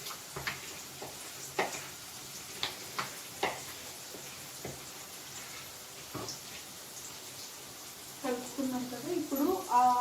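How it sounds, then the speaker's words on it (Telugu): Onions frying in oil in a pan for green chicken curry give a faint, steady sizzle broken by scattered soft pops and ticks, and a person starts talking near the end. "చూడండి, ఆనియన్స్ అనేది వేగాయి."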